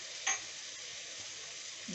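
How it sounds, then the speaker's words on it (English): A steady, even sizzle of onions frying in a hot pan outdoors at a campsite, with a brief clink of a utensil near the start. "Just for now, we're frying the onions."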